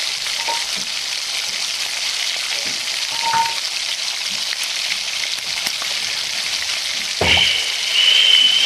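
Cut pumpkin pieces go into hot oil in a wok, flavoured with dried and slit green chilli, giving a steady loud sizzle and crackle close up, with a few faint clinks and a louder burst of frying near the end.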